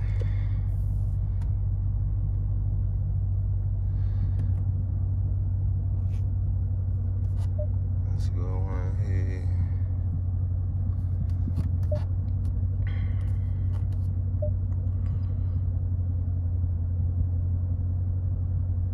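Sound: Dodge Challenger engine and exhaust rumble

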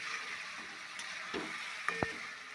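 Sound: meat being fried and stirred in oil

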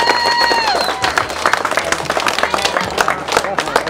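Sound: audience applauding

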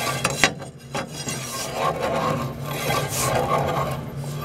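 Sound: tool scraping crud inside a boiler tube

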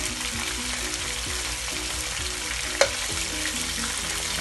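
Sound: baim fish frying in oil

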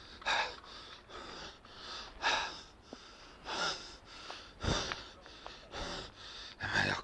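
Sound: heavy panting while walking uphill

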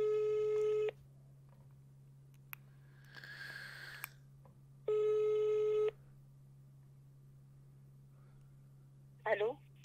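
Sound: telephone ringing while calling a viewer's girlfriend

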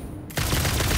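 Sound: gunfire in video game Satisfactory

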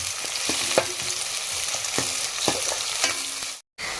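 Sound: onions frying in a pan

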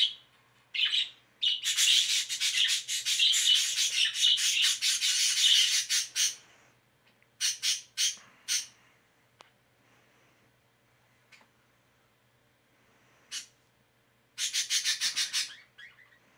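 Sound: birds chirping in a video game

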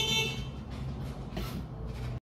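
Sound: car horn honking outside

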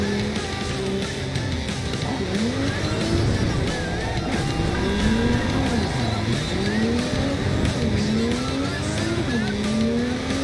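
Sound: Nomad car driving in video game Cyberpunk 2077

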